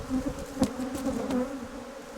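Honeybees buzz steadily while being shaken from frames outdoors on a warm sunny day, a dense droning hum with individual bees whining past close up.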